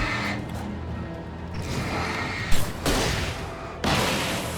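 Hunting rifle fire in the video game Alan Wake, a few loud, booming shots spaced out over a dense, rumbling game backdrop with no talk.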